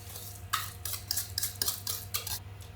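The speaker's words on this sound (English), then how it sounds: "Add the eggs one at a time, whisking after each one." Eggs are whisked into cake batter in a large bowl, heard as close, quick bursts of wiry scraping strokes repeating in an uneven rhythm, with no talking.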